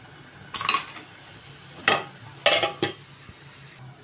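Cauliflower upma stirred in a pan: a handful of separate scraping and clinking strokes from a spoon against metal over a faint low sizzle, with no talking.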